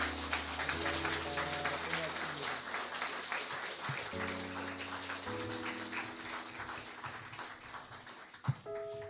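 A church congregation applauding during a founding thanksgiving service, a continuous spatter of clapping over sustained musical tones that runs throughout, ending with a sharp knock.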